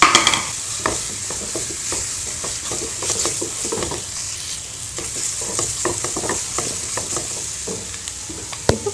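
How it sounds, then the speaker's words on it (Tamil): An egg being stirred and fried in oil with store-bought masala powder while making South Indian egg curry, a steady sizzle broken by repeated scraping and stirring clicks, close up with no talking. "அதையே நல்லா எண்ணெயில் போட்டு வதக்கிட்டு முட்டையும் அதில் போட்டுடலாம்."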